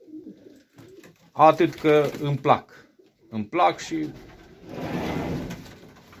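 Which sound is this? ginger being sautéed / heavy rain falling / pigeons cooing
pigeons cooing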